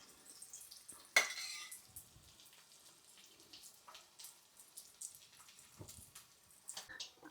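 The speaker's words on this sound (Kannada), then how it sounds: "ಸೊ ಅದಕ್ಕೋಸ್ಕರ ಚೆನ್ನಾಗಿ ಬೇಯಿಸ್ಕೊಬತ್ತಾ ಇದ್ದೀನಿ ನೋಡಿ ಗೈಸ್" A paneer dish cooking in a pan, with quiet sizzling and stirring, a sharp clink of utensil on metal near the start, then soft intermittent scraping and bubbling.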